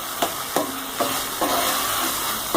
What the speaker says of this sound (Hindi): इसमें मोटी कटी हुई हरी मिर्च शामिल करेंगे। नमक शामिल करेंगे इसमें हल्दी जाएगा। अच्छी तरह इसकी भुनाई करेंगे।